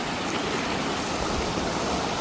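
Broad steady rush of water flowing in a stream below a flooded tank bund, loud and continuous throughout with no voices.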